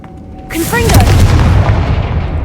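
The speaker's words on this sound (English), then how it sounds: "Confringo!" Confringo blasting spell in Hogwarts Legacy, cast in a tomb: a sudden loud explosion breaks a quiet moment, with rising magical whistles and a deep, sustained rumble that lingers for about two seconds.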